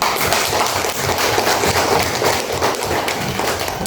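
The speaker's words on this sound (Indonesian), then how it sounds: "Beri tepuk tangan untuk kelompok 6" A classroom of pupils applauds a student group, dense steady clapping from many hands filling the room at close range for the whole stretch without pause.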